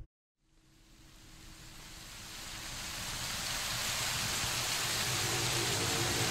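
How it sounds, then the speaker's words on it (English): Steady rain in the horror video game Living Nightmares. The hiss rises from silence and swells into a dense, continuous downpour that grows louder toward the end, with no voices. "It's raining."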